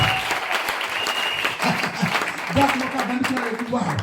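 An audience at a French-language church gathering claps steadily in loud, sustained applause, with voices talking over it throughout.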